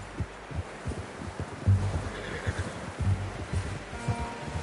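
A horse in the Western video game Red Dead Redemption 2 snorts and whinnies amid soft hoof thuds and low rhythmic movement, moderately close, no speech.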